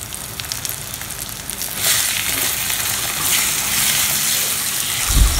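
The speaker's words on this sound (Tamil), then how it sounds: "இப்போ நம்ம முட்டையை நம்ம நல்லா வறுத்துக்கலாம்" Two eggs fry in hot oil for egg parotta, giving a continuous crackling sizzle that grows louder and denser partway through and keeps going to the end.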